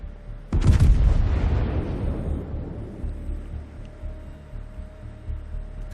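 A battleship fires a salvo of armour-piercing shells in a naval combat video game, with one sudden loud booming blast followed by a long rumbling decay.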